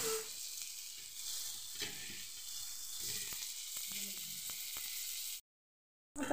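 Pomfret fish frying in a pan gives a dense, steady sizzle and hiss with occasional small pops. It runs continuously until a sudden break near the end.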